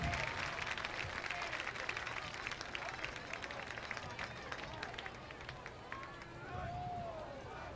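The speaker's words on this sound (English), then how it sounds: "Certainly a nice round of applause." Crowd applause at a high school football game between Marble Falls and Canyon Lake, a faint, distant, steady clapping and crowd murmur that continues throughout, with voices present in the stands.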